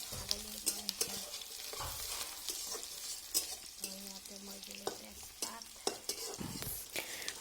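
Onion and green chilli fry in a pan with a steady broadband sizzle, punctuated by repeated stirring scrapes and clinks of a utensil against the pan; a faint low hum runs underneath at times.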